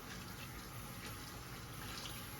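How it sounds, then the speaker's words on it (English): Water running from a tap into a bag of clothes for hand washing while traveling, a steady faint gurgling flow that continues evenly without talk. "So you're gonna fill up the bag until the water has completely covered the"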